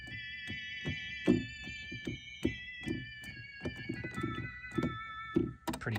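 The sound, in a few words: VOX Continental organ with vibrato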